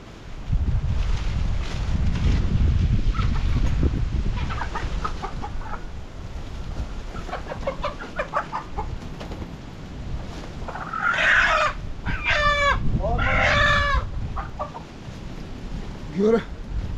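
Newly bought chickens cluck on a farm, with a few bursts of clucking calls close to the microphone over heavy outdoor wind noise.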